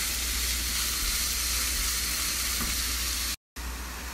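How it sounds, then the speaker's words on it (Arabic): Onions fry in oil in a pot, making a loud, steady sizzle and hiss up close that continues without a break, apart from one very brief cut near the end. "هالمرة نبي نحمر البصل تحمير"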